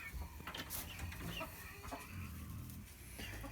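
Chickens inside a coop cluck and murmur close by, with overlapping bursts of clucks and a few sharper squawks throughout.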